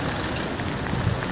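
Steady rain falls in Times Square, a dense, even hiss of drops on pavement that fills the short moment without a break and has no voices.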